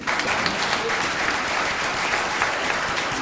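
An audience at a 2014 Massachusetts gubernatorial forum on energy and environment applauds the hosts, a steady dense wash of many hands clapping throughout, fairly loud and without talk.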